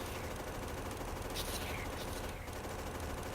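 Continuous dense machine-gun fire shoots at biters in Factorio, a loud, steady, rapid rattle that fills the whole stretch with no pauses.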